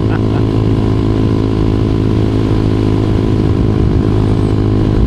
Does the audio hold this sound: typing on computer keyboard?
no